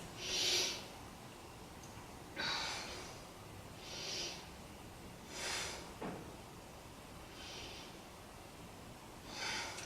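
Slow, deep breaths during a beginner yoga session, a soft airy inhale or exhale every second or two, six in all, close and fairly quiet with no talking.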